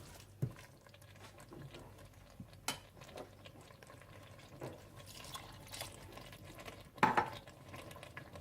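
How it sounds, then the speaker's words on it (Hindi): A spoon stirs black-eyed pea curry in a pot just after water has been added, giving faint, soft liquid sloshes and occasional light scrapes and knocks against the pot. "और इसे अच्छी तरह से मिला लें"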